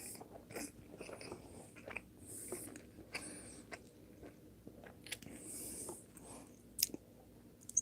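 Close, faint chewing of Jack Daniel's Tennessee Honey Candy Ribs, with wet smacking bites and soft crunches coming in irregular bursts and no talking.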